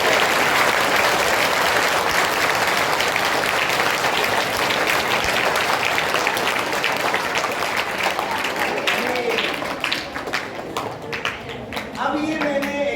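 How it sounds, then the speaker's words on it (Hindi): Sustained seminar audience applause, many hands clapping together loudly before thinning out toward the end, with some voices mixed in. "एक बार अपने लिए तालियां बजा लीजिए।"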